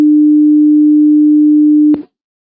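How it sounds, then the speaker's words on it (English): A pure 300 hertz sine test tone holds steady and loud for about two seconds, then cuts off abruptly with a brief click, followed by silence. "the top one represents a sine wave, and it represents audio of 300 hertz."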